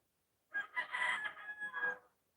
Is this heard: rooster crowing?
yes